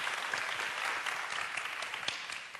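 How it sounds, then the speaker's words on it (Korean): A crowd applauds steadily, a dense wash of clapping that fills the room for a few seconds. "우리 박수 한번 쳐주시죠."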